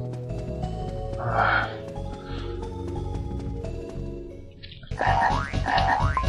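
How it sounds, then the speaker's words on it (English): A frog croaks in the video game Glover, with deep, rough croaks rising in bursts over a busy game soundtrack, a louder pair near the end joined by a sudden burst of music. "You fucking frog!"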